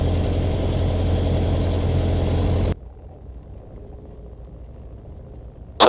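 A light aircraft engine on a discovery flight drones loud and steady as the plane comes in, then cuts off abruptly to a quiet background hum.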